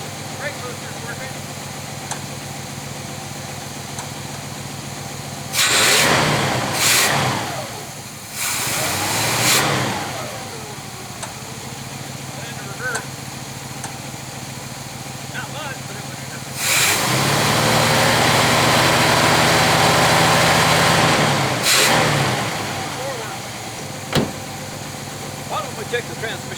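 The big block V8 in an abandoned 1966 Chevy Biscayne idles steadily after its first start since 2003, with several loud revving bursts close by and people talking at times.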